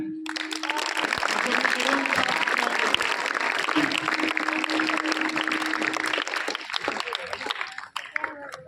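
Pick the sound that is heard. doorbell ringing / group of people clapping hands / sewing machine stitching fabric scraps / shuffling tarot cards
group of people clapping hands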